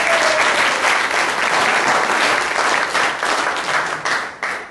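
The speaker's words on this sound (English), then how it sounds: "give him a round of applause" A live audience gives sustained applause for a man who has become a qualified nurse, steady dense clapping at close range that thins slightly toward the end, with no talk over it.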